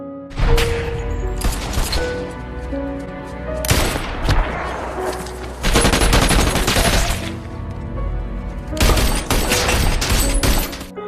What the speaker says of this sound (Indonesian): hingga terjadilah adegan tembak-menembak di antara mereka